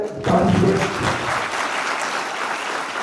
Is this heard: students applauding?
yes